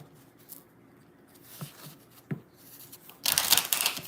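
Tarot cards shuffled by hand, quiet scattered taps and flicks building to a brief, louder burst of riffling near the end, close and with no talk.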